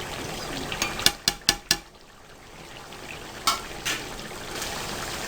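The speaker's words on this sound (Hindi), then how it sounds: "अब आपने 1 मिनट के लिए इसको फ्राई करना है ताकि मिर्चें अच्छी तरह से फ्राई हो जाएं।" Green chillies fry with salt and chilli powder in a pan for degi chicken masala, a faint steady hiss broken by a quick run of sharp spoon scrapes and knocks, then two softer stirs.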